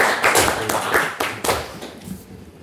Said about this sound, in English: Round of applause for HDMI forum.